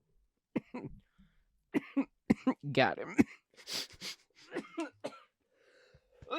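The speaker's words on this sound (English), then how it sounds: "I'm a cougher through and through" Several harsh, bursty coughs come close together from a person in a cannabis dispensary, mixed with brief throat clearing and a few spoken words.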